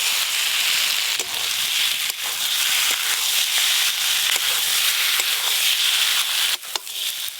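Fried eggs and green tomatoes stirred into a cooked spice paste in a pan sizzle steadily with a loud, bright, continuous hiss, broken by soft scraping strokes of stirring.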